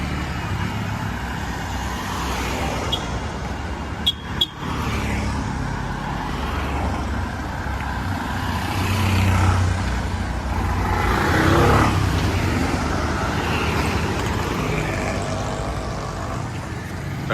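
A bus on a road in Sri Lanka, a staff transport service heading to Colombo from Kataragama, rumbles past with a swelling engine drone and passing whoosh, set against roadside ambience and a brief sharp clack early on.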